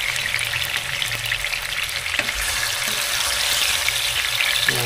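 Pork asado pieces frying in a pan with oil, a dense continuous sizzle and crackle close up, steady throughout with no voices.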